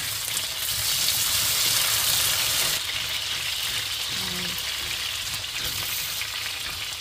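Carrots and potatoes are stirred slowly in a frying pan, sizzling with a bright, steady hiss that is loud at first and then softer and even, with faint scraping from the stirring and no voices.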